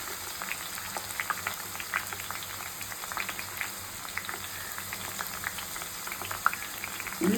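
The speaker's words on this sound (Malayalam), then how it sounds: "ഉള്ളിയാണ് ഈ പൊട്ടിക്കൊണ്ടിരിക്കുന്നത്, ചുവന്നുള്ളി." Red onions fry on low heat in oil, a soft bubbling hiss with a stream of small, rapid crackles and pops, close and even throughout, with no speech.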